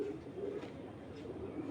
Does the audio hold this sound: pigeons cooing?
yes